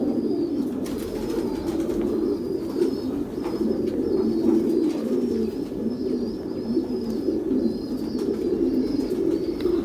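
Pigeons coo steadily in a loft, a low throaty rolling drone that repeats continuously, close and fairly loud, with a few wing flaps and higher chirps overhead.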